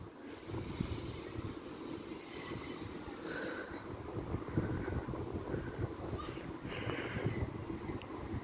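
A Transport for Wales Class 172 diesel unit at Lincoln Central station gives a low, steady rumble and mechanical drone for several seconds, mixed with wind buffeting on the microphone and faint station ambience.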